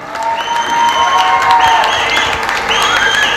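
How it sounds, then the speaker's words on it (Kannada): An audience at a rural dance academy's first annual day applauds loudly and continuously, with a few cheers and music playing underneath. "ಜೋರಾಗಿ ಒಂದು ಚಪ್ಪಾಳೆ ಕೊಡಿ"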